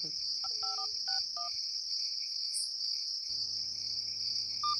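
A run of DTMF keypad tones as a phone number is dialed in a Malayalam film scene, short evenly spaced beeps over a steady cricket chirr, followed by a low ringback-like hum.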